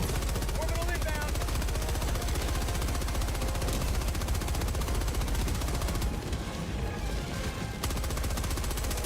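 Sustained machine gun fire in the video game Helldivers 2, dense rapid bursts running loud and continuous with explosions and battle noise, a brief lull near the end, while a voice talks over it.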